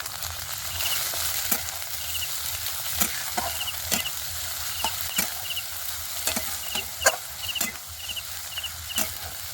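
Onions, crushed garlic and slit green chillies sizzle steadily in a pan of hot oil. Sharp clicks and scrapes of a stirring spoon against the pan recur irregularly over the sizzle.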